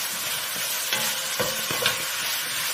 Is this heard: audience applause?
no